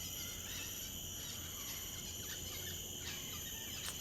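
Unseen birds in Singapore keep up a steady, dense wash of high chirps and trills from somewhere off at a distance, with a few sharper calls breaking through and no voices.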